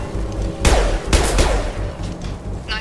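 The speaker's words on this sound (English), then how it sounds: "if I shoot them in the head, they explode" Gunfire from shooting enemies in the video game Mass Effect 2: three sharp, loud bursts of shots spaced about half a second apart over a low background rumble.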